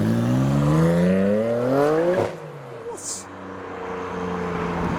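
A Nissan R32 GTR leaves a car show, its engine revving up through rising gear sweeps and fading as it pulls away, with people talking nearby.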